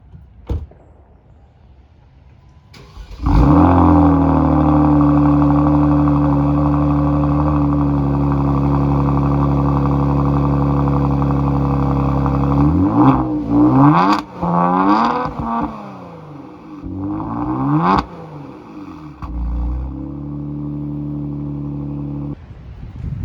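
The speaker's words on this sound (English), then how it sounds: "the next thing we got that you can't really see is the Borla Catback exhaust" A Kia Stinger GT2 with a Borla cat-back exhaust starts and holds a loud, steady exhaust drone, then revs up in several sharp bursts before settling back to a rumbling idle.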